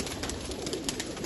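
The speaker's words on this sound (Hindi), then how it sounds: "तो गाइस ये उड़ान वाले कबूतर हैं हाजी साहब के।" Flying pigeons kept in a well-arranged rooftop loft give a brief, soft, close coo over a faint hiss of background noise.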